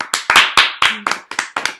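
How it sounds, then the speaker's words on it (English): A small group claps in short, sharp, close bursts, about eight distinct crisp claps with brief silences between them, loud and near. "Everyone, give a round of applause to Genesis."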